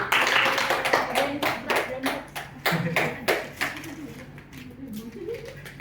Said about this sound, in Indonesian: Oke, tepuk tangan untuk Siti.